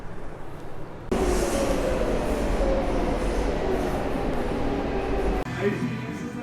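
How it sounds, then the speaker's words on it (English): A train rolls loudly into a station platform in Europe, a steady heavy rumble with faint squealing and rattling, then the noise drops off near the end. "I think my train's coming."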